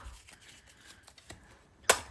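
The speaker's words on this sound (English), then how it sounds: "I'm going to put away our used cards into our" Playing cards handled and set down onto a used card pile: soft papery rustles and light taps, ending in one sharper, louder slap of cards.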